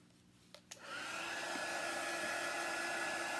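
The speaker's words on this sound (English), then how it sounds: "we're going to dry that up with my drying tool" A drying tool blows on chalk paste paint, starting after a couple of clicks and then running as a steady, close, loud whoosh with no talking.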